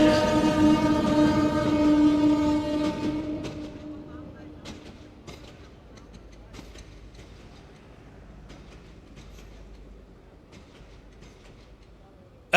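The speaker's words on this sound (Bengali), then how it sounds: "ট্রেন আছে, ট্রেন, ট্রেন।" A train passes at a rally in Narayanganj: a loud horn sounds for the first few seconds and then fades into faint rumbling and clatter, with a voice heard over it.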